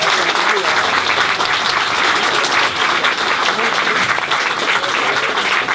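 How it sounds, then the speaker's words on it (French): Loud, dense applause from the audience at a 2016 photo exhibition in Saint-Evarzec, a continuous roar of many hands sustained throughout, close and full with no speech over it. "Je voudrais que vous les applaudissiez parce que l'organisation, c'est eux."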